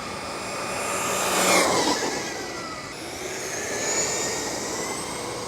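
Kyosho USA-1 VE 1/8-scale electric RC monster truck running flat out at full throttle, a steady high-pitched motor whine that rises and falls as it passes, moderately loud with no talking.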